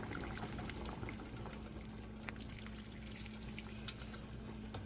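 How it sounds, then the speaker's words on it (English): Cream being poured into a pot of Zuppa Toscana soup at a light boil, a steady continuous liquid pour with low bubbling underneath, close and even throughout, with no talking. "Now what we're about to do is add in 1 cup of cream."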